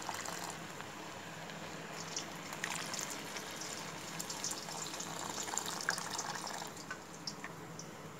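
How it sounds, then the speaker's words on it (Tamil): Milk is poured into pasiparuppu paal payasam in a soft, steady liquid trickle with faint drips, a quiet continuous pour heard close with no talking. "இப்போ இதில் பால் ஊற்றிடலாம்."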